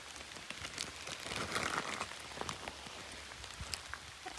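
Light rain falls on an outdoor walk in New York, soft scattered patter and drip ticks on surfaces at low level, steady and close without voices.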